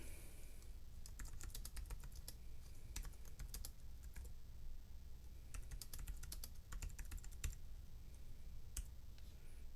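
Keys of a Freewrite Traveler portable writing keyboard clatter in quick bursts of typing, close and crisp, with short pauses between runs and no talking.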